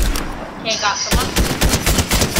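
Pistol gunfire in the video game Fortnite: after a brief lull, a close, loud string of rapid repeated shots fires in a steady rhythm.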